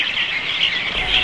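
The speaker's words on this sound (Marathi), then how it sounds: "पहाटेची चाहूल म्हणजे चिवताईची चिवचिव." Sparrows chirp in quick, bright bursts, close and fairly loud, with no voices and only a faint low hum underneath.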